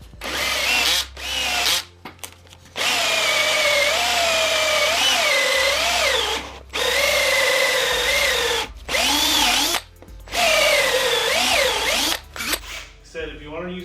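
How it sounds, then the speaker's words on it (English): A power drill with a hole saw grinds into a metal car subframe during a bushing upgrade on a GTO, in several long, loud bursts, its whining pitch wavering, separated by brief pauses. "We're gonna go in here with the hole saw first."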